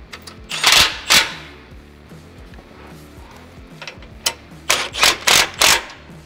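Bolts holding the blow off valve support on a Ford F150 are tightened with a ratchet, giving bursts of quick clicking, a few short runs then a longer series of clicks, close and loud in a quiet space.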